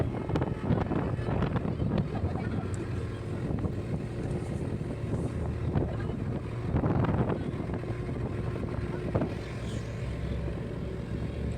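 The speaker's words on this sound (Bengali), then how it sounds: "এবার নৌকা আমাদের ছাড়লো" A passenger boat carrying about twenty people moving along the Brahmaputra river, a steady engine drone mixed with heavy wind buffeting on the microphone, continuous and fairly loud throughout.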